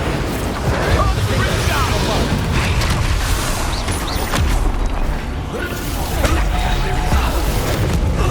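Confringo fire-blast spell explosions in the Hogwarts Legacy video game, booming repeatedly amid a dense, loud clamour of combat effects and voices throughout.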